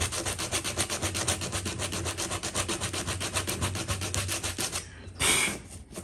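Fine abrasive is worked back and forth along an edge during crash damage repair on a Kawasaki ZX12R. The close, steady rhythmic rasping scrubs continuously, then ends with a brief brighter rub.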